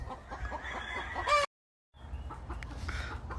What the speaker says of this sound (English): That's a beautiful hen right there.